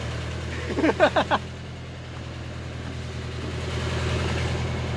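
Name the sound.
car engine idling after engine swap in Datsun 910 Bluebird wagon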